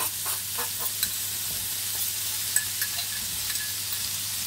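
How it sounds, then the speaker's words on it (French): Onions and garlic frying in a pan for moussaka give a steady, moderate sizzle, broken by a few soft clicks and scrapes as they are stirred. "On va mettre les oignons et l'ail."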